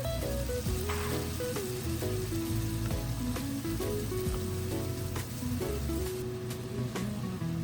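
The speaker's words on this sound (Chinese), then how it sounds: "倒入剛剛保留的香菇水，讓所有的食材一起煮出鮮甜的味道" Mushroom soaking water poured into a hot wok with seasoned ingredients for Taiwanese fried rice noodles gives a steady, dense sizzle that holds evenly from start to finish, with no talking.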